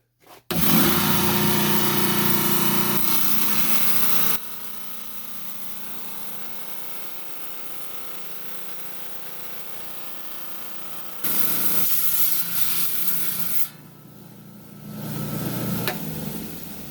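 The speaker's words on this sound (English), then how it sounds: "Okay, I got my saw set up." Rock saw grinding through a hematite and red jasper slab to take a quarter-inch cabochon slice, a loud steady whine with harsher bursts at the start and again near the end, alone without talk.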